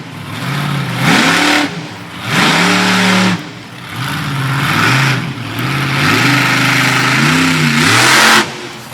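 A monster truck engine revs hard in repeated surging bursts on slick soil at a Fredericksburg, Virginia monster truck show, loud and close, with the pitch climbing and dropping as the throttle opens and closes.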